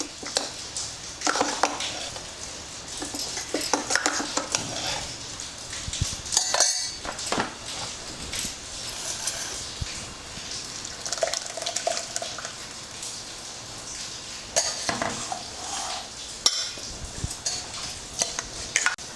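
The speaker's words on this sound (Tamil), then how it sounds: "இப்போ நைஸாக அரைச்சிட்டு இது திருப்பி ஃபில்டர் பண்ணணும்." Blended Ooty beans and drumstick soup being strained through a filter in a kitchen, with soft stirring, scraping and liquid sloshing against metal utensils, close and fairly quiet, no talking.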